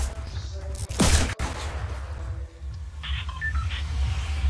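A pistol fires in Fortnite, one sharp loud crack standing out near the start with quieter game sounds and faint beeps after it.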